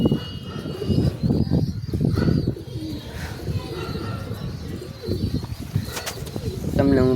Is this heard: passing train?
no